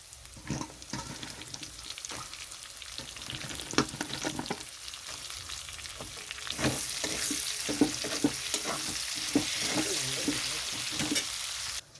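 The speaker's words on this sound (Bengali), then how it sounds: "এখানে দিয়ে দিচ্ছি কুচানো পেঁয়াজ" Chopped onions with ginger sizzling in a hot pan for chicken malai curry, a steady crackling hiss that swells louder partway through, broken by scraping stirs.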